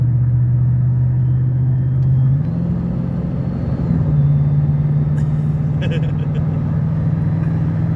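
A truck engine rumbles loudly and steadily as it passes close by, its low drone shifting pitch slightly partway through, with faint higher whine above and no voices.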